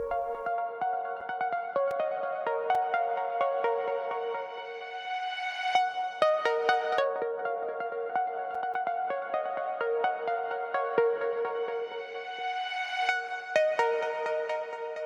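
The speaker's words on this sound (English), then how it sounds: "And now we have a reverse effect." A reversed reverb effect on a pluck synth in a big room festival track, heard alone as swelling tonal washes that rise into sharp plucked notes, repeating in phrases with no talk.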